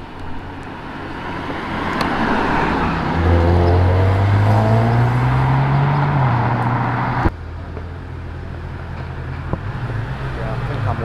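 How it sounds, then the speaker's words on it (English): Audi RS5 Sportback driving past at a supercar meet, the engine note swelling as it nears and rises in pitch, then fading away, with crowd chatter and road noise underneath. "A lovely RS5 Sportback coming here."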